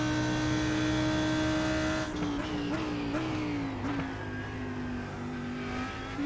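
An Audi GT3 race car in iRacing at Circuit Gilles Villeneuve, Montreal, holds a loud, steady engine drone with shifts and changing pitch as it chases another car.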